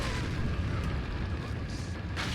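A grenade goes off in Resident Evil 4 as a loud, low boom. Rumbling combat noise and a few sharp pops come with it over a brief, dense stretch.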